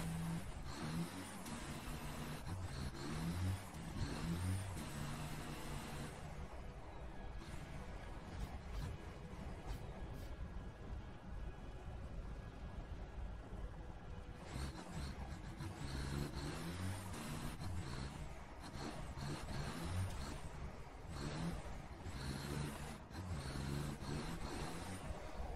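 A truck drives in the video game Satisfactory, its engine droning steadily and loudly throughout with shifts in pitch as it accelerates, and no talking.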